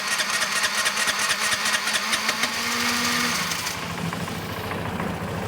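A Vespa GT200 scooter engine, just back together after a carburetor cleaning and tune-up, catches and runs, then settles into a steady, fairly loud idle that continues close by with no talk.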